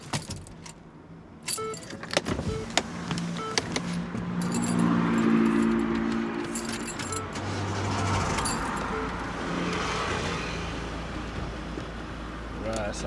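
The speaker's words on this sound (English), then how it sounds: "still got the engine running" A van with a failing clutch idles with a low, steady engine rumble while keys jangle sharply near the start and someone talks over it.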